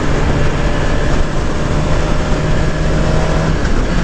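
Suzuki GSX-R1000 2018 sport motorcycle running steadily while riding, a loud, continuous engine drone with a low steady tone and heavy rushing road and wind roar.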